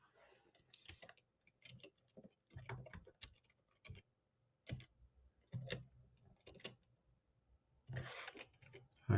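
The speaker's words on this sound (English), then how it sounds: "let me type that in" Someone with a broken hand types slowly on a computer keyboard, sparse uneven clusters of key clicks separated by pauses, close and quiet, with no talking.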